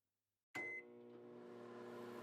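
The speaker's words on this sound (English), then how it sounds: "There's a microwave noise" A microwave oven starts abruptly after a moment of silence, opening with a short high beep and then settling into a steady, close electrical hum that drones on to the end.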